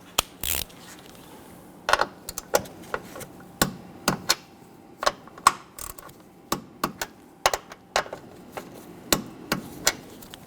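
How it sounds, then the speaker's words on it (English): A torque wrench tightens the upper strut nuts on a Dodge Charger, giving a run of sharp, close ratcheting clicks in irregular bursts with quiet gaps between them. "Let's go ahead and torque these down to 20 foot-pounds."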